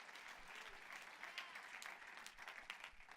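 Steady applause from a church congregation, a dense wash of clapping that holds evenly throughout at moderate distance.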